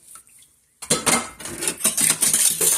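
Dishes and cutlery are rinsed in a kitchen sink. After a quiet start comes a close, busy clatter of plates and silverware knocking together.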